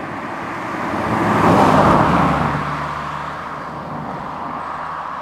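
A Kia Picanto city car drives past or revs, its engine noise swelling to a peak in the middle and then easing into a steady road hum, with no talk.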